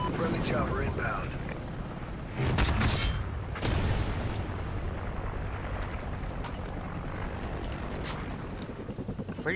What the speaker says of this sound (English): Friendly chopper inbound.